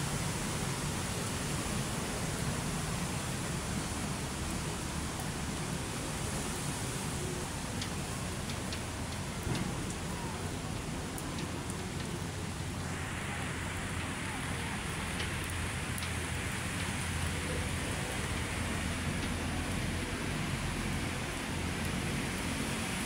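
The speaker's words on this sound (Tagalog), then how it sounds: "malakas ang ulan." Heavy rain pours over Manila Bay, a dense, loud and steady hiss of drops that continues unbroken, easing slightly in brightness partway through.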